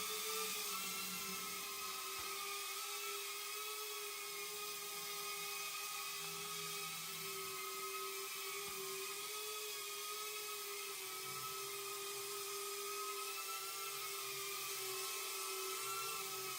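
A Snapper 7 RC helicopter's electric motor whines steadily at raised throttle on a low battery, a continuous high tonal drone with stable pitch, close and alone with no talk.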